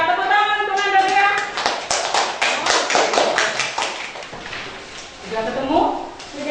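A classroom gives a student a round of applause, with a dense burst of clapping hands that builds and then fades. A teacher's voice talks over and around it.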